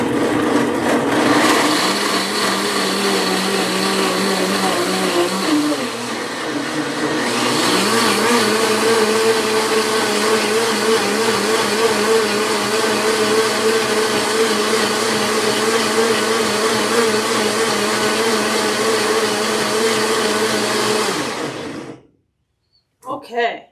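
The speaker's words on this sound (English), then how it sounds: "But if you have a blender that is not high-speed, just plan on it taking a little bit more time." A countertop blender runs on its sauce setting, whirring cashews into vegan heavy cream; the loud, steady motor roar holds for about twenty seconds, dips briefly early on, then cuts off near the end.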